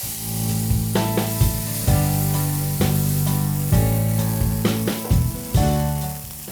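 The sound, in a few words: water added to a hot pan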